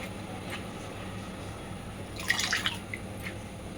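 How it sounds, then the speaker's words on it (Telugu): Quiet water drips and small splashes in a sink, a brief cluster of wet taps near the middle against a low steady background hum. "మళ్ళీ మంచినీళ్ళు పెట్టి కడుగుతాను"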